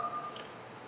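Telephone keypad DTMF tones dialing a number on a Raspberry Pi VoIP PBX setup, a quick pair of short beeps at the very start, clear and close, followed by faint hiss.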